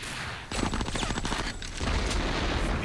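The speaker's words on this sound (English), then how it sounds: "He's throwing grenades!" Grenade blasts in the video game Conker Live and Reloaded, a burst of rapid cracking detonations giving way to a heavy rumbling boom, loud and dense with no talking.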